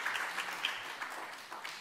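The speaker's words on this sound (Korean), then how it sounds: "박수해 주시기 바랍니다" Congregants at a New Year Sunday church service give a brief, faint round of applause, a soft, even patter of many hands throughout.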